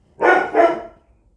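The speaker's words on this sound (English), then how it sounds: "I think you'll enjoy Sally barking" Two quick, loud barks from a nearby dog in close succession, then silence.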